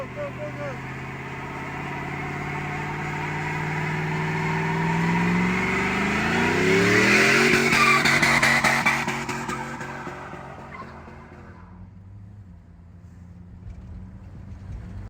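A car called BigFace fitted with short tube Gibson headers revs loudly, its engine note climbing and swelling to a roaring peak before quickly dropping away to a quieter rumble.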